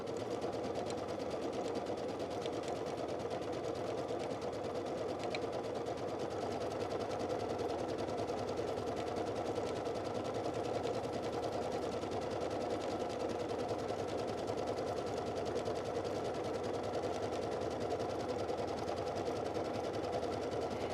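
A sewing machine zigzag-stitching couched yarn onto reinforced fabric runs steadily and evenly for the whole stretch, a faint, close, continuous mechanical whir with no pauses.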